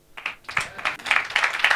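A small crowd claps for children, uneven handclaps building into a short burst of applause that grows louder toward the end, with no one talking over it.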